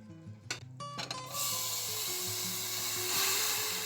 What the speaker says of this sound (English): I'm going to use the same pan to heat my pinto beans